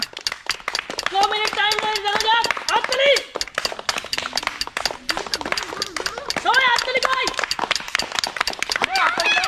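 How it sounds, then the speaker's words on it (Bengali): Rapid, rhythmic clapping keeps going through a children's game of placing colored bottles on matching colored paper, while voices call out and sing over the beat. "হাততালি হাততালি হাততালি।"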